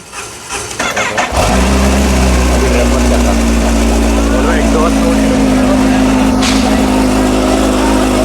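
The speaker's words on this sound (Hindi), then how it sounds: "तो अब आपको स्टार्ट करके दिखाते हैं।" A Kawasaki H2 SX SE motorcycle with a stock exhaust cranks briefly, then catches with a loud start and settles into a steady, close idle rumble that continues without letup.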